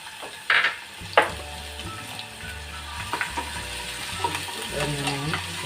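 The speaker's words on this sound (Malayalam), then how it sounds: "ഇത് ഓരോന്നായിട്ട് വാട്ടിയെടുക്കാം ഇഞ്ചി വെളുത്തുള്ളി പേസ്റ്റാണ്" Ginger garlic paste sautés in oil in a pan, giving a steady close sizzle and frying crackle broken by several stirring scrapes, with no one talking.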